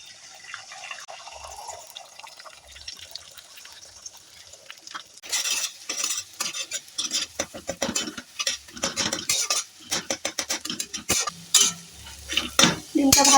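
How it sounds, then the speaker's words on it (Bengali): Beaten egg fries in hot oil in a kadai, with a soft sizzle and then a run of quick, rhythmic scraping and stirring strokes of a spatula against the pan that grow busier toward the end. "এবার ডিমটা ভেজে নিচ্ছি।"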